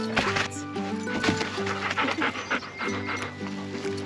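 Several dogs pant rapidly and steadily up close at a doggy daycare, a continuous breathy rhythm with faint background noise and little talk.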